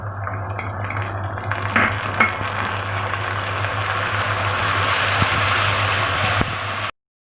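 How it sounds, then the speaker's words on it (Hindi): Ground garlic and chilies sizzle in a pan with already fried onions, a steady loud frying hiss with a few faint clinks of a spoon against the pot. "अब इसमें हम लहसुन और मिर्चें डालेंगे जो ग्राइंड की हुई है।"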